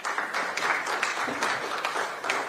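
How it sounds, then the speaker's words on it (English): An audience at a panel event applauds with a steady, fairly soft patter of clapping heard from a distance throughout. "I want to give yourselves a round of applause"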